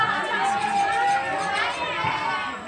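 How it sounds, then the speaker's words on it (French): An impatient crowd presses at the Futuroscope park gates on opening day, a dense, continuous murmur of many voices with excited chatter and a narrator speaking over it. "Une foule impatiente se presse derrière les grilles du parc."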